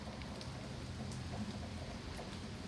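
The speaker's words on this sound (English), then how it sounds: "I could still feel the rain a little bit over here" Rain falls steadily during a severe thunderstorm, a faint even hiss of drops with no talk.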